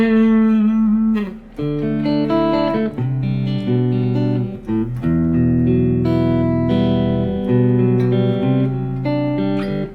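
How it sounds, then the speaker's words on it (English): An electric guitar through a Kemper amp plays sustained chords and notes with a slight gritty edge, loud and alone with no voices. "there's a small bite of distortion in case I want."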